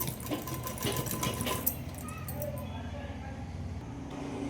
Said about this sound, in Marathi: छातीच्या ठिकाणी शिलाई घेतली